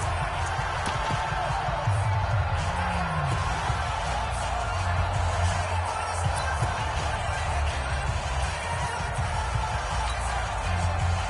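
A dense, steady roar of a large stadium crowd cheering in the American football video game Madden NFL 20, loud and continuous throughout, with low rumbling undertones and no clear individual voices.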